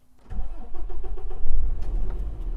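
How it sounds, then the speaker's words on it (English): A big rig truck engine cranks briefly, catches and settles into a steady, close, low rumbling idle. "Frank had me start up the truck and we were off."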